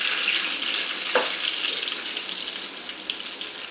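Whole spices for a baghar tempering crackle in hot oil, poured over a pot of greens, milk, lentils and eggplant, giving a steady close hiss and sizzle with a couple of brief pops.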